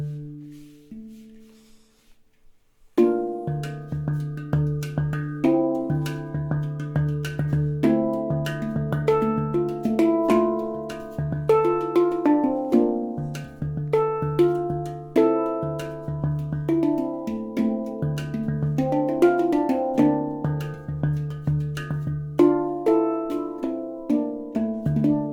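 Handpan, an integral-style instrument close to the same chord, plays a song with struck, resonant tones and a steady low drone-like note beneath shifting higher pitches, starting after a few seconds of quiet and continuing alone.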